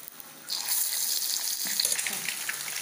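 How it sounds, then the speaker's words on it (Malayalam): Pieces for chilli egg hit hot oil one by one in green chilli sauce. After a quiet start, a loud, close sizzle bursts in and crackles on steadily. "ഇത് ഓരോന്നായിട്ട് നമുക്ക് ഫ്രൈ ചെയ്തെടുക്കാം."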